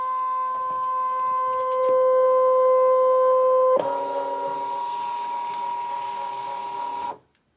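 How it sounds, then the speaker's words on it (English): A Brother ScanNCut2 cutting machine runs on pattern paper, giving a steady whirring drone with tonal hums that shifts partway into a busier mechanical scanning pass before cutting off abruptly, with no talk. "So I'm going to hit direct cut, hit it to the machine. I've got it black and white, and we're going to hit start."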